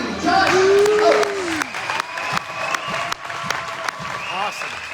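Crowd applause at a boys varsity senior night ceremony: scattered clapping from spectators in a gym, with announcer speech and sustained tonal sounds over the claps.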